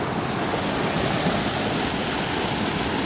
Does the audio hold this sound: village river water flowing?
yes